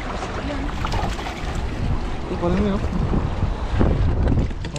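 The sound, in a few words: wind blowing during a fishing boat trip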